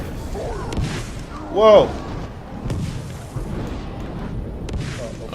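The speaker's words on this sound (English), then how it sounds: "he's kind of hitting himself with his own explosions" Explosions in the Shadow of War video game, one brief boom standing out near the start amid continuous gameplay noise and commentary talk.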